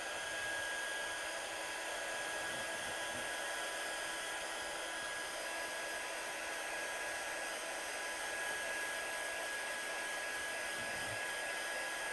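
A handheld heat tool blows steadily on craft card for a die-cutting project, a loud, continuous hot-air whoosh with a faint high whine running unbroken and alone with no talk.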